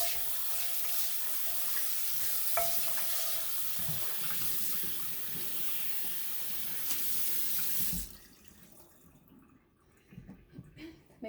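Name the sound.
tap water rinsing a cast iron pan in the sink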